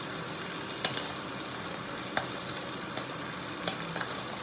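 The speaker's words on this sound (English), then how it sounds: "As you can hear, that chicken is boiling, bubbling and boiling." Chicken pieces fry in a hot pan for a Chinese roast dish, giving a steady dense sizzle with scattered sharp crackles and pops throughout, and no one speaks.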